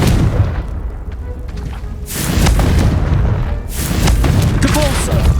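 Confringo fire-blast spell explosions in Hogwarts Legacy: two loud, close booming blasts a second or so apart, each a broad roaring burst that rumbles on, over ongoing combat noise.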